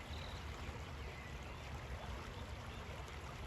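River water flows outdoors in late winter, a steady broadband rush with no clear change, quiet and continuous with no voices.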